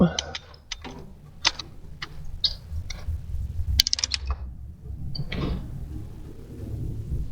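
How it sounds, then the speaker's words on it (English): A socket ratchet tightens bolts near an oil filter in a few short bursts of close clicking, broken by pauses, with low background rumble throughout. "I know I haven't tightened them yet. Then I will take my socket."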